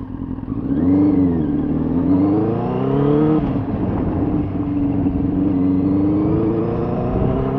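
A Benelli TNT 600 motorcycle pulls away and accelerates, its engine note rising steadily in pitch through the gears, loud and close with a continuous throaty roar and no speech over it.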